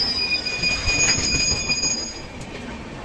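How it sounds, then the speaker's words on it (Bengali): Gitanjali Express on the Howrah–Mumbai CSMT route runs through a village station, loud and close, with steady rumbling wheels and sharp, sustained high-pitched wheel squeals ringing over the passing cars. "খুব সুন্দর একটা ট্রেন এখন কিরা স্টেশন ক্রস করছে।"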